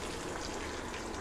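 Water pours into a hot pan with a tempering of chilies, curry leaves and asafoetida for Gujarati khaman, a faint steady gushing splash with no talk.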